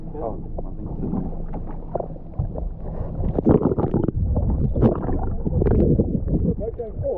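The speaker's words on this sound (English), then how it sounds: "The boat moving forward." A fishing boat's engine drones as the boat moves forward on open water, with wind buffeting and splashing around it and people talking close by.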